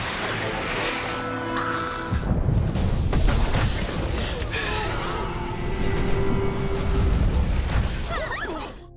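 Bombs dropped on a zombie-overrun city explode in a continuous, loud rumbling barrage of booms and bursts, with debris and crackling carrying on throughout.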